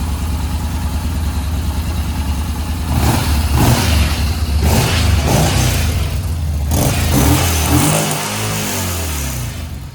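A Yamaha XV950 motorcycle engine, just fitted with new spark plugs, cranks and catches, then idles and revs in several rising bursts, loud and close, with no talk over it.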